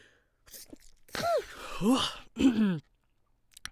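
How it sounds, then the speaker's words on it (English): A person sneezes, with a drawn-out breathy buildup followed by sharp bursts and a short gasping release, close and fairly loud. "Oh my goodness, I'm about to sneeze."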